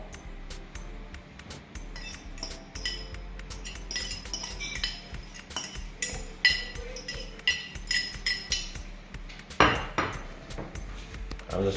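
Saltfish being mixed into a flour mix in a bowl for Jamaican saltfish fritters, a steady run of close, light clinks and taps of utensil against the bowl, with one louder knock near the end.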